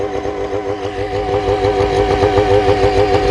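A Mosquito Air ultralight helicopter engine runs steadily at close range, a loud, throbbing two-stroke drone with a slightly wavering pitch and no pauses.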